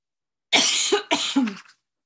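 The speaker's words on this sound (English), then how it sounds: "Excuse me for all the coughing, I do apologize." Two rough coughs in quick succession, close and fairly loud, then silence.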